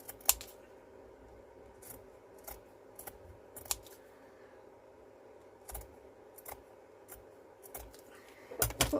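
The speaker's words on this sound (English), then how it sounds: "Let me just see if I can cut these into little strips." Scissors snip scraps of lace into little strips for a craft embellishment, a series of quiet, sharp cuts spaced irregularly, close by and alone in a calm room.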